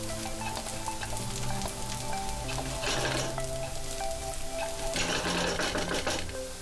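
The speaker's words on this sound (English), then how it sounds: "add 2 onions chopped and fry this until the onion is nice and soft" Chopped onions frying in oil in a hot pan, a steady busy sizzle with occasional stirring scrapes, close and continuous throughout.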